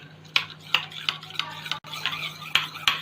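A spoon briskly stirs arrowroot and water in a small bowl, giving a quick, repeated series of clinks and scrapes, close and clear over a faint background hum.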